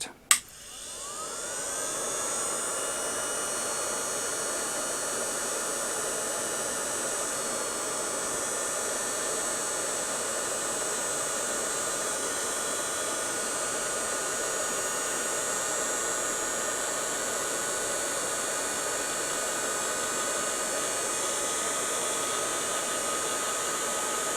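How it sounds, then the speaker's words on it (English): A heat gun blows steadily and evenly, passed lightly over heat shrink tubing on vintage-style Kenner Indiana Jones leather toy whips; a continuous close whooshing roar with no talking. "I'm going to do this very gently and just pass it over as lightly as I can just to get the heat shrink to shrink"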